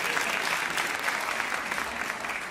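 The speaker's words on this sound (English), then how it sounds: "one loud round of applause, please, for Shan and Rizwan Hussain" An audience at a live event applauds steadily, a dense, even wash of clapping that holds at the same level throughout.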